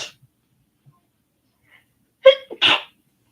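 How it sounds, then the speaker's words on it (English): A single sharp human sneeze bursts out close and loud near the end after near silence, preceded by a quick inhale. "Oh, I have been sneezing like crazy this morning"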